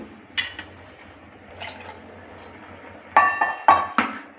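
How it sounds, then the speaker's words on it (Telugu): A lid set onto a pot of mutton bagara curry, a few close metallic clinks and knocks separated by quiet gaps. "ఇప్పుడు మళ్ళీ మూత పెట్టేసుకోవాలి"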